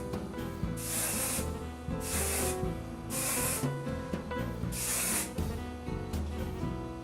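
Hairspray hisses onto hair in four bright, separate bursts of about half a second each, close and clear, with salon music playing steadily underneath.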